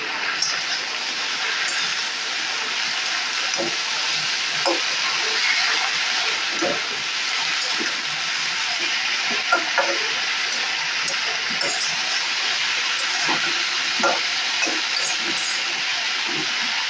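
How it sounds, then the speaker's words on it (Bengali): Pumpkin shoots stirred with salt and turmeric in a hot pan, a steady hissing sizzle with scattered soft scrapes and clinks of the spatula, close and without voices. "এই দুটো দিয়ে ভালো করে আমি একটু নেড়ে চেড়ে নেব।"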